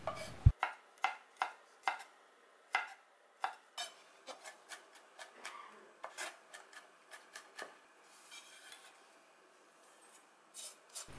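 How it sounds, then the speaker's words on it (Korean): A knife mincing garlic on a cutting board, heard as quick, close chopping taps in irregular bursts that grow softer and denser toward the end, with no talking. "먼저 양념장에 넣을 마늘을 다져줍니다."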